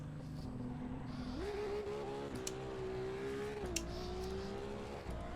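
Ferrari engine in the Assetto Corsa EVO racing game held at launch control, a steady high-pitched drone that jumps up in pitch and holds, dips briefly and rises again, loud and continuous with no talk.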